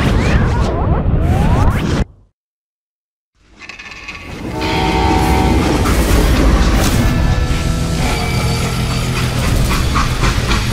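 A freight train in the Western video game Call of Juarez Gunslinger sounds a loud horn over rumbling rail noise. A brief silent gap near the start is followed by the steady clatter of rolling cars.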